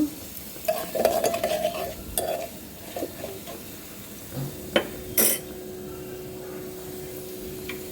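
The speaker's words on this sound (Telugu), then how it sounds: "పోపు దినుసులు ఫ్రై అయిన తర్వాత" A spoon stirs and scrapes tempering spices in a pan of hot oil, with clinks against the metal and a faint sizzle in between.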